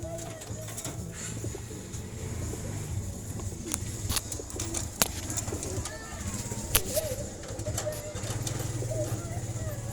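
Pigeons coo in a low, repeated rumble in a loft with young squabs, accompanied by sharp clicks and knocks, fluttering and someone talking nearby.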